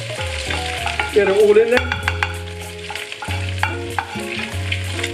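Chicken fried rice with peas and sweet corn fries loudly in a pan while stirred, crackling sizzle with scraping spatula strokes and clatter, background music and a voice speaking briefly.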